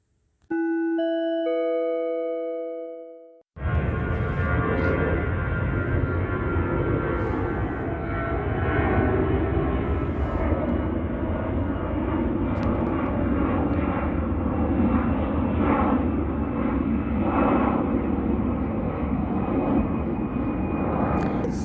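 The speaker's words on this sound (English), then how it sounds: "that's where you get into flying plane after plane after plane" A bright two-tone chime sounds first. Then a loud, steady roar of an airplane passing overhead takes over and holds for nearly twenty seconds with a slightly rising and falling drone. No one speaks.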